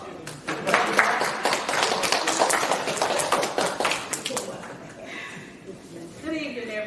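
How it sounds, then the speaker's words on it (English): Audience applause for barefoot poet Dolores Gibson at a poetry event, a dense wash of clapping that swells near and fairly loud for several seconds, then thins out into quieter scattered claps and room murmur. "Let's give her a round of applause."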